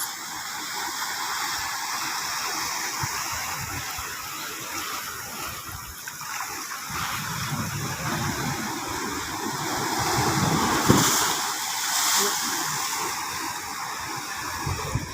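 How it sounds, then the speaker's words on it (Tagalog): Ocean waves after Typhoon Kristine make a continuous rushing, churning wash of water, steady throughout with a slight swell near the end, moderately loud and close. "medyo lumiliit na ang alon"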